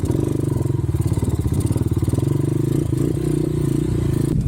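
A 250cc motorcycle engine labors steadily at low revs climbing an uphill trail in Palingkod Hills, Siquijor, with a rhythmic chugging pulse and some clattering, close and loud throughout.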